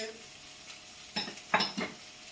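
Carrots, potato, onion and baby marrow being sautéed in a pan, heard as a few short bursts of stirring and sizzling scrapes against a quiet background, close by.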